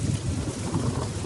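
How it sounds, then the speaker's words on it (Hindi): Steady, dense rain roars without a break, a broad wash of noise with a low rumble beneath it. "फिर जोरों की बारिश शुरू हो गई।"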